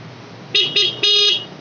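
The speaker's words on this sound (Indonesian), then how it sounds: "Dengarkan ini klakson ini" A car horn honks three times up close: two short beeps followed by a longer blast, loud and brassy against a quiet background.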